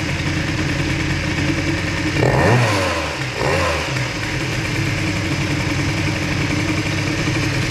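A Bidalot RF 50 WR moped engine with a 20 mm carburettor runs on a lean mixture, a steady buzzing idle broken by one short throttle blip around the middle, close and loud with no talk.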